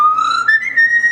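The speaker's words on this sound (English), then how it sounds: "How about whistling us a tune?" A bird at the bird show at Utah's Hogle Zoo whistles a short tune, clear and close: one sustained note stepping up to a higher held note.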